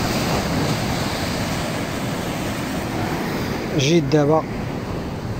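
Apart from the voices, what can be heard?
sea waves at the shore while fishing in Morocco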